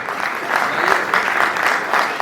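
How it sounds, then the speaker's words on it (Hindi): An audience at a music album release event breaks into loud, sustained applause, dense clapping swelling and holding steady with some voices underneath. "एक बार जोरदार तालियां।"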